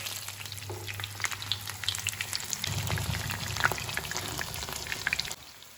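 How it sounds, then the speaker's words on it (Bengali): Cabbage-leaf-wrapped prawn paturi dropped one by one into hot oil in a pan, a soft crackling fry with scattered pops, growing fuller and denser midway before cutting off. "এখন আমি এগুলো তেলে ভেজে প্যানে তেল দিয়ে দিয়েছি গরম হয়ে গেছে এখন আমি একটা একটা করে দিয়ে দেবো"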